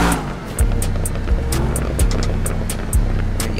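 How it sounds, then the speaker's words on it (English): A 2023 Nissan Z in GTA 5 revs hard, with several quick downshift blips spaced through a loud, continuous engine drone, with no talk. "I hear the downshifts on this."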